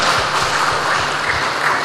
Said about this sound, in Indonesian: Kita tepuk tangan yang cukup meriah.